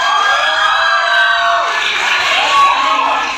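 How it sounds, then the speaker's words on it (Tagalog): Students cheering and shouting in a university function hall after an arnis competition, a loud sustained crowd roar with high whoops and rising-falling yells layered over clapping. "Palakpakan at hiyawan."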